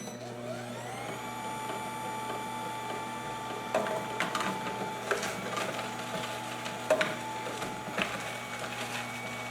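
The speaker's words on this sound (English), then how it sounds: "So I'm going to put it on hard and I'm going to get to juicing." An electric juicer grinds vegetables for green juice, its motor rising into a steady whining hum soon after the start, with irregular clunks and crunches from the produce feeding through.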